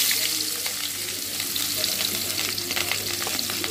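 Onions and green chillies frying in a pan with oil, a constant close crackling sizzle with scattered sharper pops and faint stirring, no talking.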